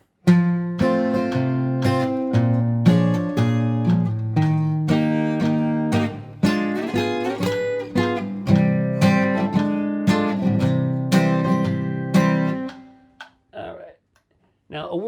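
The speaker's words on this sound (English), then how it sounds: "So the first verse, let's do it with the metronome" Guitar plays the first verse of a song along with a steady metronome click, chords and melody notes ringing close and even, ending with a short spoken moment.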